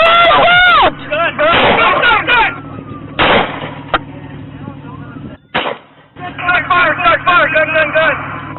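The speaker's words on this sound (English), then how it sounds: "Shots fired." Several loud, close gunshots fired by police during a confrontation with a man holding a rifle at a residence. Sharp bangs ring out between shouting officers and radio chatter, with sirens or alarm tones wailing throughout.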